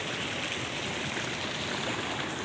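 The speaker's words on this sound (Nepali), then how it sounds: "यो खोला यो हिमालयबाट बगेर आएको" A Himalayan-fed river stream rushes steadily, a dense continuous wash of flowing water that stays close and loud throughout, with no voices and no breaks in the torrent.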